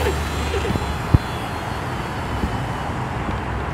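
Dynam Sbach 342 four-channel RC aerobatic model plane taking off, its electric motor and propeller giving a steady broadband whir close by, with a short sharp knock near the start and no one talking.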